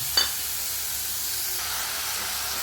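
Kashmiri chilli masala hitting a hot pan gives a steady, close, fairly loud sizzling hiss that starts with a brief sharp burst and continues evenly throughout, with no talking.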